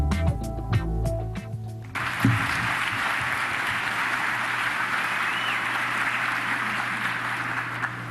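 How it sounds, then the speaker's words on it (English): Music ends abruptly and audience applause takes over at the ArtPrize 2011 juried and special awards event, a steady wash of clapping that fills the rest of the moment without speech. "Every time it feels like you're applauding for me"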